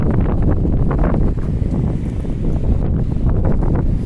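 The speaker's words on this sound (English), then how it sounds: "Oh, it's windy out there" Strong wind buffeting a phone microphone on a downtown street, a loud, continuous roar with gusty rumbles throughout and no talking.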